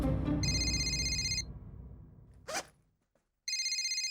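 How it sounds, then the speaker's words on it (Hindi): A telephone rings in a sitcom scene with two loud, bright electronic ringtone bursts separated by a quiet gap, alongside a brief rustle. "उसी का फोन।"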